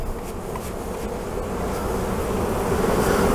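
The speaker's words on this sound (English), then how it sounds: "Now you don't want to try and brush bees like you would sweeping your floor, because that will make them angry." Honey bees flicked off a comb frame make a dense, steady buzzing hum that swells a little toward the end, up close, with no talking.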